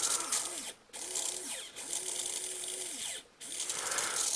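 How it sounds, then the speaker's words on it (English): Cheap small electric motor with a noisy little gearbox whirring in short bursts, a buzzy rising-and-falling whine that cuts out briefly twice, close and fairly quiet. "It's quite a noisy little gearbox."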